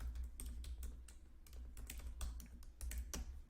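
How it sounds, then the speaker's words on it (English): Rapid, uneven clicks of fingers typing an email address on a computer keyboard, quiet and close, with brief pauses between bursts of keys. "I'm going to type in my new email address"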